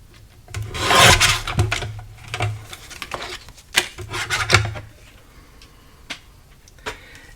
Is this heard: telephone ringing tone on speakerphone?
no